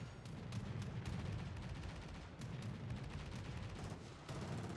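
Naval guns fire HE shell salvos in the World of Warships Legends video game, a series of rumbling booms over dense battle noise, several sharp reports spaced a second or so apart.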